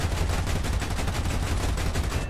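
Aircraft cannons rake a tank's turret roof in a combat flight video game, a dense, continuous burst of rapid gunfire with heavy low rumble that stays loud and steady for the whole couple of seconds.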